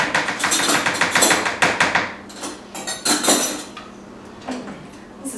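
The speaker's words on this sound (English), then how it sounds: "Okay, so I ladle it in" A vintage 1950s ladle scoops egg mixture into cups for a healthy egg cup recipe, producing a quick run of close metallic taps and clinks against dishes that fade to sparser knocks.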